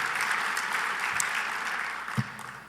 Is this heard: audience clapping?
yes